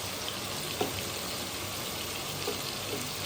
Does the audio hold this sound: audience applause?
no